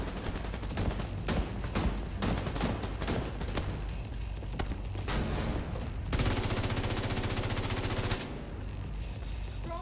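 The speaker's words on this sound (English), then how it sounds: "That guy's hitting him with a shotgun." Rapid bursts of gunfire in the video game The Division 2, with shotgun blasts amid a dense firefight, then a sustained automatic stream near the end; loud and close.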